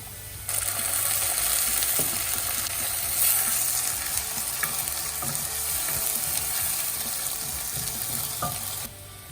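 Ginger garlic paste sizzles and fries with browned onions in ghee in a pan over a lowered flame, a steady, close, continuous crackle with small spatters and no talk throughout.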